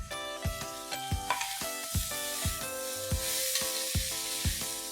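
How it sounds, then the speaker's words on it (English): Salted onions sizzle steadily in a hot pan while frying golden for chicken karahi, with regular scraping strokes of a spoon stirring through them, close and fairly loud. "I'm going to fry them nice and golden"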